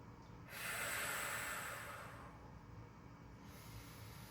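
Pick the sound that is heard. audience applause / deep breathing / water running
deep breathing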